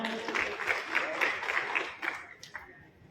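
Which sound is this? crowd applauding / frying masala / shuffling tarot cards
crowd applauding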